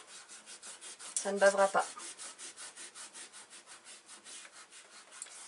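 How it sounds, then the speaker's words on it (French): Pencil eraser rubbed back and forth on watercolour paper, a close, rhythmic scrubbing of evenly spaced strokes, with a short spoken remark partway through. "Quand vous avez fini, vous pouvez gommer dans la foulée."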